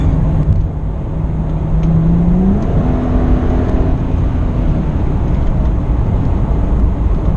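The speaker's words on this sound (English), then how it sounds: "This motorcycle behind me." A motor vehicle drones steadily on a highway, loud road and engine noise with a rising whine as a motorcycle passes close by.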